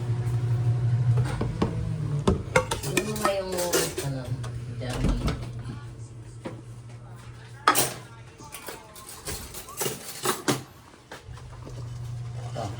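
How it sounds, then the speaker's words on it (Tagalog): Dinner plate picked up and handled in a home kitchen, with scattered ceramic clinks, knocks and clatter at close range among other kitchen noises, while people talk over a low background hum. "Kuha na ako ng aking pinggan."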